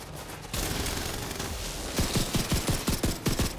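Rapid bursts of gunfire in The Division 2 crack out in a quick rhythmic string after a sustained whooshing blast, loud and close with no talk over them.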